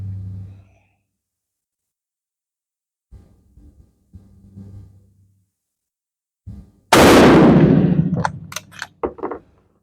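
Enfield No5 rifle fired once up close, a sharp loud crack that rings out and decays over about a second, with a few softer clicks and knocks of handling the bolt before and after.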